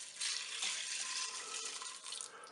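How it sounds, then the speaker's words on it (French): Water pours from a tap or jug over dry spaghetti in a Cookeo pressure cooker pot, a short, steady, splashy hiss that is close and fairly quiet, with no voices. "On va tout simplement recouvrir d'eau"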